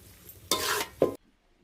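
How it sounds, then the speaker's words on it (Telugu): Pre-boiled goat tripe frying in oil for Telangana-style boti fry, a loud burst of sizzling and stirring lasting under a second, then a shorter sizzle before cutting to silence. "ముందుగా ఉడికించుకున్న బోటిని ఆయిల్లో వేయించుకుందాం"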